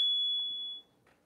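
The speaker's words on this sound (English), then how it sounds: "that is our notification" A single sustained electronic notification beep, a pure steady tone lasting under a second, heard indoors during an e-bike unboxing and assembly, then fading to quiet room tone.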